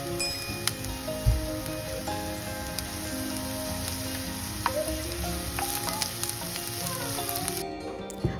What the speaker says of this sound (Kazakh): Пиязымызды ұсақтап турап, табаға өсімдік майын құйып, қуырып аламыз.